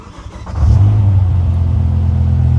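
A BMW M6 V10 engine starts from inside the cabin, a short crank followed by a low, steady idle rumble that stays loud and constant.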